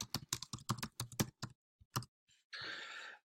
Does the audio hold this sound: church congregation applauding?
no